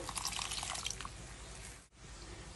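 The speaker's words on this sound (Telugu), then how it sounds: "మసాలా ఉడకడానికి కొంచెం నీళ్ళు కూడా వేస్తున్నా" Water poured into ground masala simmering for meatball (kofta) curry, a steady soft splashing pour with faint drips, fairly quiet and without talk, stopping briefly near the end.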